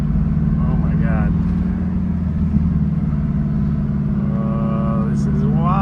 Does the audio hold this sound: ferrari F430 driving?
yes